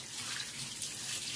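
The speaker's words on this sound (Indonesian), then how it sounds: "Jadi saya siram air biar dia tenang." Water poured over a monitor lizard gives a soft, steady splashing trickle, close and fairly quiet, with no voices.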